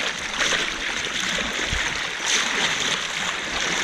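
A shallow river current rushing and splashing around a kayak, a loud, continuous broadband wash of water with a brief low thump partway through and no speech.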